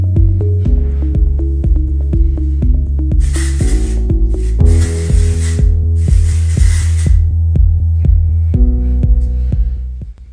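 Kristin Ess Working Texture Spray hissing onto hair in a couple of short bursts over a steady humming tonal background, the spray noise loud and close.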